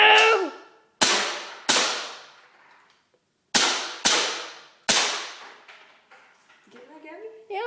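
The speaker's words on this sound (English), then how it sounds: "I'm gonna shoot at that cardboard box over there" A Cybergun Desert Eagle airsoft pistol fires six sharp shots at a cardboard box outdoors in two groups of three, each crack trailing into a fading ring, with voices heard briefly at the start and end.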